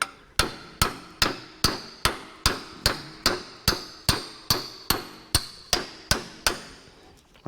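A hammer drives a metal shank back onto a tractor part in a workshop: about fourteen loud, close, sharply ringing blows, evenly spaced and steady, with no talk.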